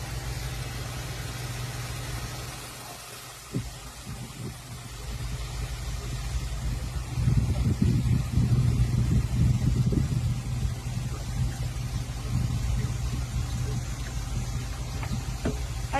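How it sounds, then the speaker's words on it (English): A motorhome engine idles at a truck stop, a steady low rumble throughout, briefly dipping before swelling slightly louder, with faint voices in the background. "now you can turn off the engine."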